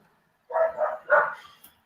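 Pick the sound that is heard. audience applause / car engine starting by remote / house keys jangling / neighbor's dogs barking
neighbor's dogs barking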